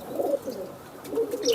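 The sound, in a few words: pigeon cooing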